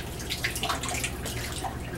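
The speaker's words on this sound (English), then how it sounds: "go over to the sink here and rinse it a little bit." Tap water runs in a sink while a microscope slide carrying a canine vaginal smear is rinsed, giving a steady, soft, continuous splash and trickle with a few faint drips.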